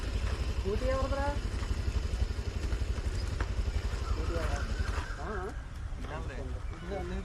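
A scooter engine idles with a continuous low rumble close by, running under loud, overlapping conversation between young men.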